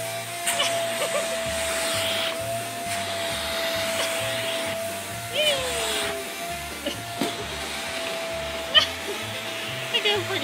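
A household vacuum cleaner running continuously with a steady droning whine close by, its pitch dipping briefly as it moves, while a person talks over it.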